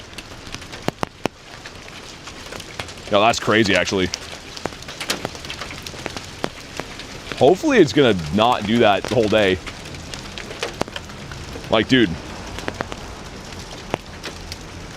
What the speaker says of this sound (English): these are like full hail chunks. I don't know if you can hear them. They're hitting the top of the umbrella.